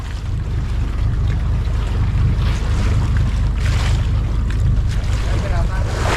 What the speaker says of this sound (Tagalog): May padating na bangka mga kabisig.